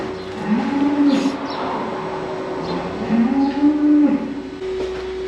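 A dairy cow with a hoof ulcer moos twice during hoof trimming, long low bellowing calls separated by a short pause, close by against a steady background hum.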